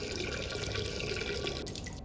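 A steady, splashing stream of liquid pours into a toilet bowl in Duke Nukem Forever gameplay, a continuous close trickle with faint dripping and no talking.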